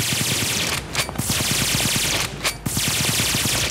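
An automatic gun fires rapid, evenly spaced shots in The Cube Factory, a loud continuous burst with two brief pauses, with no talking.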